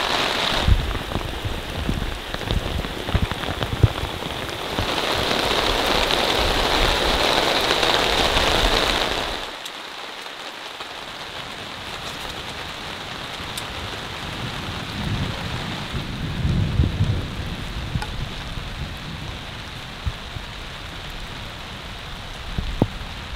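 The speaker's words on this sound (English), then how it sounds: "I don't know where this rain came from, but it's heavy." Heavy rain pours down on a remote Canadian wilderness campsite, a dense hissing patter that is loud at first, then eases to a steadier, softer drumming with occasional low rumbles; no one speaks.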